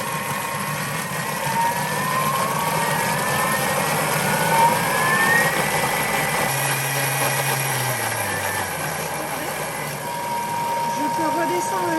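Thermomix food processor blending soup, ramping up to maximum speed 10: a loud, close motor whine with rising pitch, churning steadily throughout.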